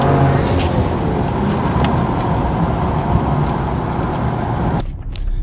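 A 2020 Ford Explorer ST on an ethanol tune launching hard off a trans brake, engine roaring loud and steady with broad road noise before cutting off abruptly near the end.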